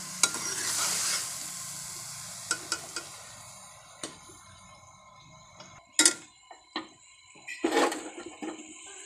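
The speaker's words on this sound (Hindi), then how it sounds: "हमारा जो सालन है उसे अच्छी तरह से हम भून लेंगे" Curry base for a village-style Punjabi aloo gobhi sautéing in a pan, with a soft sizzle under a handful of sharp spoon scrapes and clinks against the pan.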